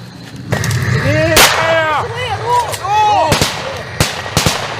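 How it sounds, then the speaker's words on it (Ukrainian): Sharp gunshots and bursts of gunfire crack out irregularly, several loud reports among shouting voices and a steady background rumble of explosions. "під звуки вибухів та пострілів"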